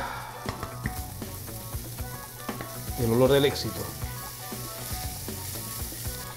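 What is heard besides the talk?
garlic sizzling as it fries in a pan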